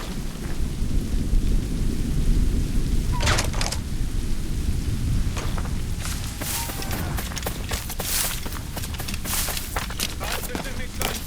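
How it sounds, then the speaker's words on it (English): Heavy rain and a thunderstorm in the video game Assassin's Creed Rogue: a steady, loud downpour roars throughout, with sharp crackling thunder strikes and rumbles breaking through, growing denser in the second half. "The storm's getting worse."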